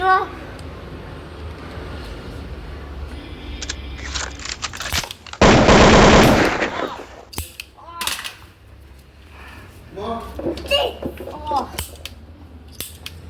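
Gunfire in a video game comes as sharp shots and short bursts, including one dense burst of rapid fire, with clicks and a voice talking between them.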